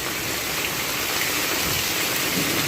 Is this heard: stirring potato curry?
no